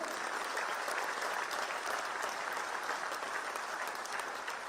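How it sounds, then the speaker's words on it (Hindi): A crowd claps at the launch of an EV bus at Delhi University. The applause is continuous, even and fairly faint, as if heard from a distance across an outdoor gathering. "आप सबके लिए तालियां कम है भाई"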